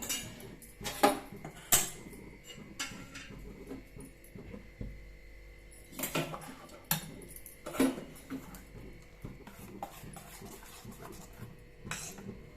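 A dosa griddle set down on a kitchen stove, making several sharp metallic clanks and clatters in scattered bursts with quieter scraping between them, close by with no talking.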